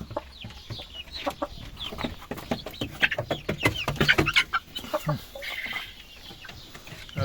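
A young turkey cockerel clucks and squawks in quick, uneven bursts close by, with other fowl noises mixed in and faint background rustling.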